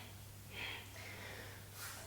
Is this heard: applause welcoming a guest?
no